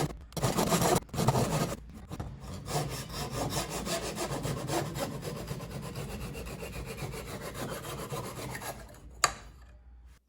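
A hand saw cuts wood at a leg joint shoulder for a hayrake table, with rhythmic back-and-forth rasping strokes that run close and steady and then stop near the end with a sharp knock.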